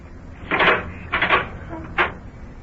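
A kitchen door opens in a radio drama, heard as a few wooden creaks and knocks spaced over two seconds, moderately loud and close, with no voices over it.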